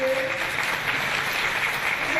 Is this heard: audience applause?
yes